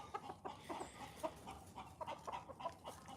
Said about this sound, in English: clucking going on there